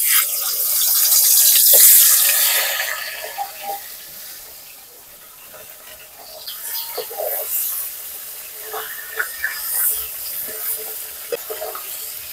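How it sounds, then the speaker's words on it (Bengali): Fish heads frying in hot oil in a kitchen pan, a steady sizzling hiss that swells loud early, eases off, then returns with crackling pops and spits. "মাছের মাথাগুলো লাল লাল করে ভেজে নেব।"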